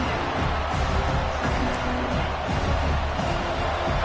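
Stadium crowd noise from a college football video game with Tennessee, a dense, steady roar of many voices that holds at an even level throughout.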